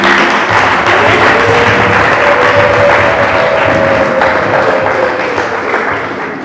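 Applause from wedding guests at a Rwandan wedding ceremony, a dense wash of clapping that runs steadily for several seconds and tapers slightly toward the end, with a faint sustained tone beneath.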